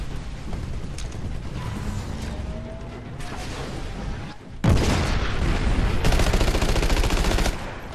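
Gunfire and heavy mechanical clanks from the Titanfall shooter game: a sudden loud boom is followed by a dense, sustained rattle of rapid shots and metallic mechanisms, with no voices.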